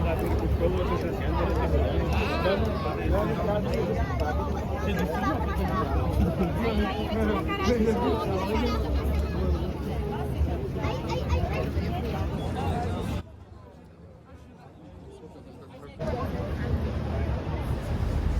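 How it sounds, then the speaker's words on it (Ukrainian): Busy outdoor crowd babble on a square in Paris with many overlapping voices, steady and moderately loud, dropping briefly quieter before the chatter returns. "Ну нічого собі, який натовп"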